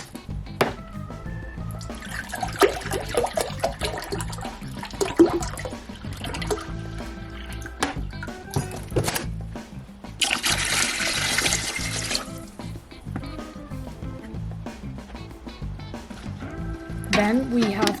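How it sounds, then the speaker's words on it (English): Distilled water is poured into a pot over lemongrass, with a steady rushing pour standing out for a couple of seconds midway amid busy kitchen sounds and background noise. "we put it in a pot, and then we're going to cover it with distilled water."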